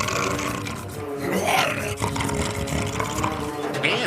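A voice imitates a lion's roar by growling into a waste paper basket, a loud hollow rumbling roar that swells and rolls over about four seconds, close to the microphone.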